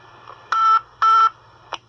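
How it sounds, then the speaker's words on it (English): Two clear, steady touch-tone beeps from a telephone keypad, each lasting about a quarter second with a short gap between them, followed by a brief faint click, heard close and loud with no talking. "I dial 747-4700."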